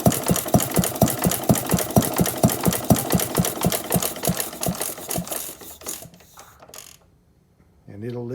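A small engine fired by a Model T buzz coil wired to a knife switch runs with a rapid, even mechanical chugging for several seconds, then stutters and winds down, followed by a brief rising whir.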